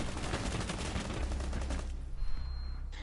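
Rapid automatic gunfire in Rainbow Six Siege, a dense loud burst of shots for about two seconds that cuts off, leaving a quieter tail.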